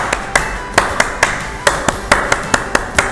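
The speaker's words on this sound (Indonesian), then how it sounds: "mari kita bersama-sama untuk tepuk pramuka" A group performs the Indonesian scout clapping rhythm (tepuk pramuka) before a pioneering activity: about fourteen sharp, unison claps in a patterned beat, close and loud, with no talking over them.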